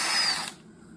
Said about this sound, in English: I will use the drill bit